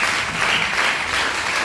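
An audience at a college stress-management session gives a guest psychiatrist a brief, dense burst of applause, close and steady throughout.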